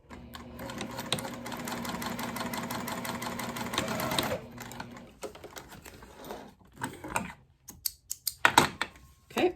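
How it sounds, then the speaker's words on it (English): A sewing machine stitches a wallet card slot with Optipop thread, a fast, even mechanical rattle running for about four seconds, then scattered clicks and handling knocks as the work is adjusted. "stitch it into place"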